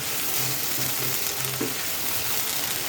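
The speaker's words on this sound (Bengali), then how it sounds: "মশলাটা ভালো করে কষিয়ে নিচ্ছি।" Ginger and garlic paste, a spoonful of each, fries in a pan with a steady, dense sizzle that hisses evenly throughout, with faint stirring and no voices.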